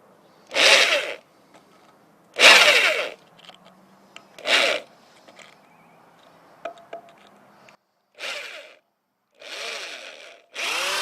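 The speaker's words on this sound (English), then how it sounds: "And let's drill into it." Drillmaster 120V 1/2-inch hammer drill, set to hammer mode with its chuck key-tightened masonry bit, boring into masonry. Six short, loud, gritty bursts of drilling are separated by quiet pauses, with no talk.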